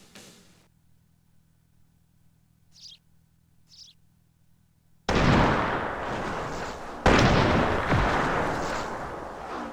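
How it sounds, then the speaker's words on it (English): Mortar and cannon fire in the PC video game Cossacks: Back To War, starting after a quiet stretch with faint chirps, then two heavy booming blasts with rumbling tails, loud and close. "Either way, mortars get to work on the towers."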